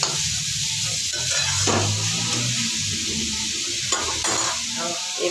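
Carrot and spice paste frying in a pan, a loud continuous sizzle and hiss with occasional stirring scrapes, close and alone without talk.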